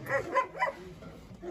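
A Rottweiler barks three times in quick succession near the microphone, each bark short and sharp, followed by quieter background noise.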